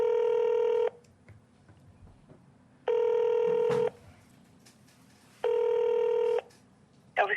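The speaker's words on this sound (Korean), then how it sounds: "전화 연결해 보도록 하겠습니다" Telephone ringback tone while a call connects: three separate one-second electronic tones spaced about two seconds apart, clear and moderately loud, with faint room sound between them.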